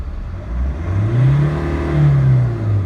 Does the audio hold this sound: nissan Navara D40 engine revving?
yes